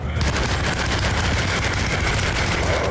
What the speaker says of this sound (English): He's allergic to Tommy gun.